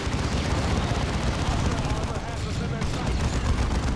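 Dense, continuous ranged gunfire from units in the video game Dawn of War II, a steady roaring barrage of overlapping shots and explosions with no break.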